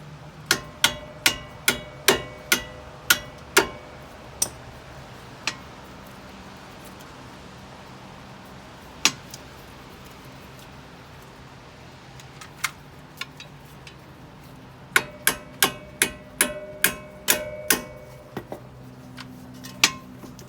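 Sharp metallic hammer taps drive a CV axle out of a 2013 Subaru Crosstrek, arriving in quick regular bursts, then a long pause with a few scattered hits, then another rapid run of ringing strikes.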